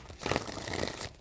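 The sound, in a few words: tarot cards being shuffled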